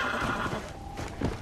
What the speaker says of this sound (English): We're gonna tame this undead horse.